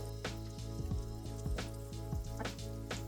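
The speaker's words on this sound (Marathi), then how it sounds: "आपण पॅटीस बनवून घेतले आणि ते शालो फ्रायसाठी ठेवले" Corn patties shallow frying in oil in a pan over low gas give a steady close sizzle with scattered crackling pops and small splatters, under a faint low background hum.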